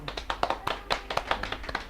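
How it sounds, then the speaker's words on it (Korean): A small group claps on a Korean talk show set, with distinct individual claps in an uneven quick rhythm, fairly close and brief, with no talk over them. "강진 박수 한번 쳐"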